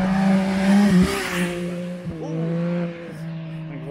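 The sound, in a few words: motorcycle speeding past on the road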